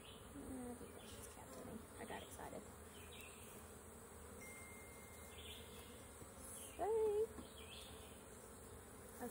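Honey bees buzz steadily around an opened hive during an inspection, a continuous close insect drone with a brief louder tone near the end and faint voices now and then.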